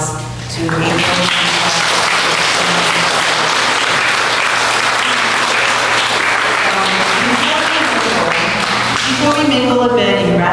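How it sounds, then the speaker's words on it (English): A loud, sustained round of applause from an audience at an evening cosmos talk honors April, thick clapping swelling in quickly and holding steady, with voices and music-like tones emerging underneath near the end. "I want to give a huge round of applause to April"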